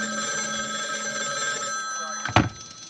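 Telephone ringing at a police department, a bright electronic bell-like trill heard briefly and moderately loud, ending with a short clunk as if the receiver is picked up.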